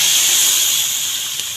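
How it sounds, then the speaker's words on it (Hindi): Loud, continuous sizzling hiss of a hot-oil tempering (tadka) poured into spinach mutton curry, close up, steady for the whole moment with no voices. "अब हम इसमें ऐड करने वाले तड़का।"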